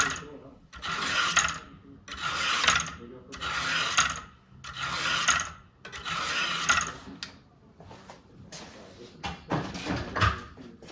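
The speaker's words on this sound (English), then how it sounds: "It's a V-Sharp Warthog knife sharpener." A V-Sharp Warthog knife sharpener with a cross scissor action has a blade drawn through it in a series of rhythmic rasping strokes, roughly one every second and a half, close and moderately loud.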